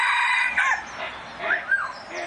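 A rooster crows indoors inside a room, giving two or three loud, close, rising-and-falling calls with short gaps between them. No one speaks.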